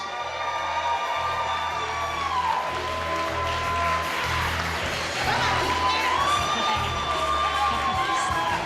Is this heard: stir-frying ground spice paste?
no